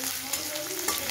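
Onions fry steadily in hot oil, a close, continuous sizzle and crackle with no one talking over it.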